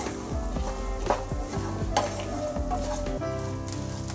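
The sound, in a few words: coconut frying and being stirred in a pan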